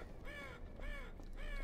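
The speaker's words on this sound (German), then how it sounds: "Was ist denn mit der Krähe da oben los?" A crow in Half-Life 2 caws three times in a slow, even rhythm, each call harsh and drawn out over a steady low ambient hum, with no voices.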